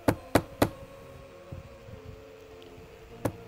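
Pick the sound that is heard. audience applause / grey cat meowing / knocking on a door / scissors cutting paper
knocking on a door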